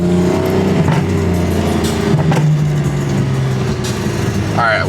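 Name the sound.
straight-piped car exhaust revving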